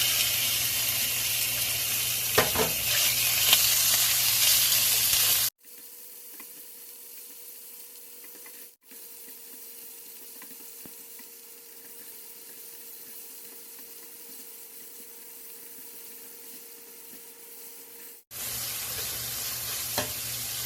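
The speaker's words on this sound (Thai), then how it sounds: "ใส่เนื้อหมูบดลงไปเลยค่ะ" Minced pork sizzles loudly while being stir-fried in a pan, part of a stir-fry with bean sprouts and tofu; the broadband frying hiss drops to a quieter, steadier simmer for a long stretch before the loud sizzle returns.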